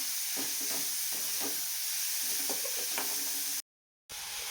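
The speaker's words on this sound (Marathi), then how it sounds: "आणि कांदा ब्राऊन कलरचा होईपर्यंत आपल्याला छान भाजून घ्यायचा." Onions browning in hot oil for a Maharashtrian bitter gourd (karela) dish give off a steady close sizzle and hiss, with soft stirring scrapes throughout, then a brief drop to silence before the frying resumes.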